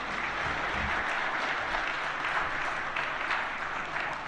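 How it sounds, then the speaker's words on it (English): Audience at an African Union forum applauding the president of Ghana, a loud, sustained, even round of clapping from a large hall that continues throughout without talk. "another round of applause, please."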